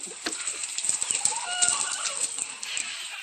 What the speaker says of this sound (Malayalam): ഇതാണ് എൻ്റെ കോഴിക്കൂട്